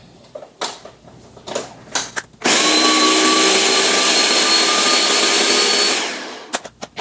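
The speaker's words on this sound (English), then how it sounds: "We're going to add as much as this we can to the blender here. And blitz that down a little bit." A blender blitzes red bell pepper for homemade BBQ sauce, starting abruptly after a few taps and clunks, whirring loud and steady for about four seconds, then winding down, followed by light knocks.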